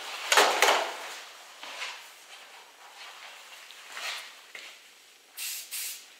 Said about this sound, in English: Just fixate a little bit with the Lancer hairspray.